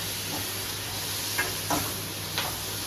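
Onions fry in a pan with a soft, steady sizzle and hiss, broken by a few faint clicks and stirring ticks, with no voices heard.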